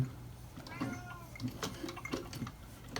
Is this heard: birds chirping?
no